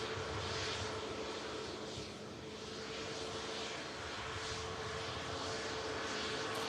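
A Ryanair airliner arriving at Manchester Airport from Katowice gives a steady, distant jet roar that swells slightly and holds without any other sound.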